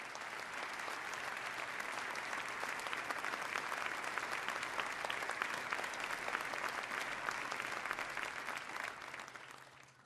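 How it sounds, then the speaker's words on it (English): A round of applause fills a state legislative chamber during a governor's 2013 State of the State address: steady, dense clapping from a large crowd, somewhat distant and softly recorded, tapering slightly at the end. "I'd ask us to give them a round of applause now"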